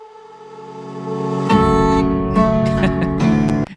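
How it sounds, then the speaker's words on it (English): An ugly synthesized vocal chop sample plays alone, sustained notes that brighten and intensify partway through, with choppy stuttering cuts before ending abruptly. "we are going to create an atmosphere out of this kind of ugly vocal right here, this vocal chop"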